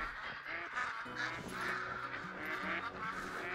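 In the Call of the Wild hunting game's New England mountains, a big flock of ducks keeps up a murky, overlapping chorus of honks and quacks, steady and fairly close but blurred together.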